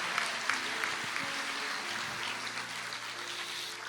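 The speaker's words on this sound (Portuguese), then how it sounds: "A igreja aplauda mais uma vez." A church congregation claps at a Sunday sermon, a moderate, continuous wash of applause with some faint tonal music or organ notes underneath.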